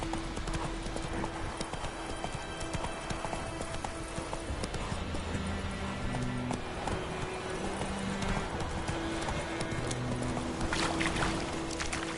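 Roach, the horse in the video game The Witcher 3, running with rapid, steady clip-clop hoofbeats throughout, under a continuous layer of game ambience and music.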